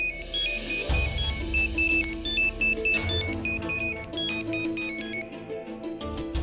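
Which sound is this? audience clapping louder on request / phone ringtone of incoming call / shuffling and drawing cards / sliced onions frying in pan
phone ringtone of incoming call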